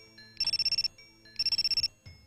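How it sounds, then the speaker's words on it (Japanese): Mobile phone ringtone sounding during a meal in a restaurant, two bursts of rapid electronic trilling pulses separated by a short pause, clear and close. "レストランで食事中に携帯電話が鳴った"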